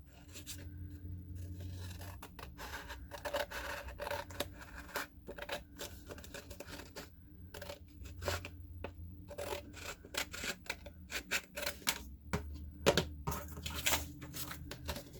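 Extra material trimmed off a folded piece while making a fabric coaster: close, quiet snipping and rubbing scrapes in irregular short bursts, faint and alone without talk.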